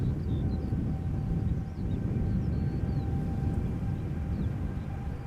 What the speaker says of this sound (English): It is a Boeing 7879 Dreamliner outbound to Houston, Texas.